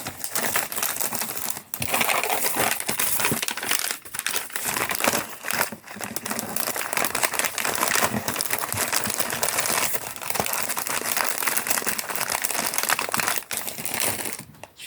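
A handmade scrapbooking shaker card with little stars and small rounds loose inside, shaken to give a constant close rattling and crinkling patter, dense and uneven.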